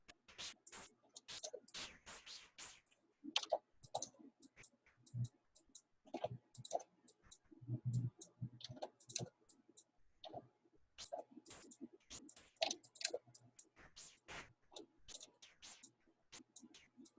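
Computer mouse clicks during image editing, sharp and close, coming in irregular bursts of single and double clicks with short pauses between, fairly quiet, no talk.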